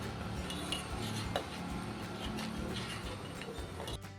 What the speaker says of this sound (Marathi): सतत आपल्याला चमच्याने नाही हे हलवत राहायचं आहे